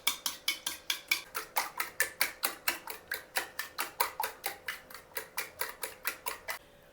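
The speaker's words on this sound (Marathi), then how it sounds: "आणि हे सगळं छान मिक्स करून घ्यायचं." Chicken nugget mixture with milk is beaten in a bowl, a fast, even run of about thirty clicking strokes of utensil against the bowl, close and steady, stopping just before the end.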